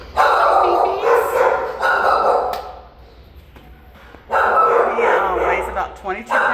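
A puppy at an animal shelter barking and yipping loudly in repeated bursts close by, with a quieter lull in the middle before the barking picks up again.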